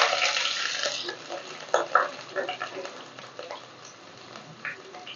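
Carrots, raisins and peas fry in a pan before rice is added, with soft sizzling, scattered stirring scrapes and utensil knocks, fairly close and moderately loud with no talk.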